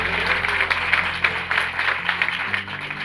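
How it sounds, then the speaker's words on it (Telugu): A church congregation at a harvest festival gathering claps together in a short, loud burst of applause, with a steady tonal hum of music or voices running underneath. "గట్టిగా ఒకసారి చప్పట్లు కొట్టు"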